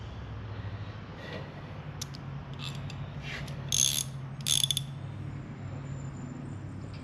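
A lift cable unspools through a ratchet and pulley mechanism over a steady low mechanical hum, with a few scattered clicks and two brief louder metallic rattles, close by and without talk.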